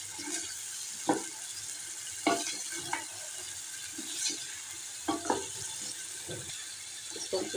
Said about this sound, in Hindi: अभी अच्छे से हमें 2 मिनट और भूनना है।